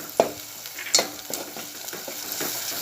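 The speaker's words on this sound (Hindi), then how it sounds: "और इसे मैं मीडियम आंच पर तेल में अच्छे से भूनूंगी" Ground spices and turmeric fry in oil over medium heat for a Konkani tomato curry, a soft, steady sizzle broken by a few clinks and scrapes of stirring, close and alone.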